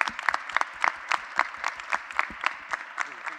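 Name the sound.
audience applause for the vice-mayor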